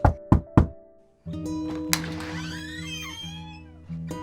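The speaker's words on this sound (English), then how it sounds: "when he heard a knock on his door" Three sharp, quick knocks rap on a door in an animated story, followed by a pause and then a sustained tonal musical passage.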